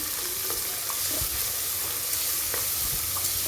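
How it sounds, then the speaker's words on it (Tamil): Onions, green chillies and curry leaves fry in a pan for barley upma, giving a constant dense sizzle with occasional light stirring taps. "நல்லா வெங்காயம் வந்து பொன்னிறமாக வதங்கட்டும்"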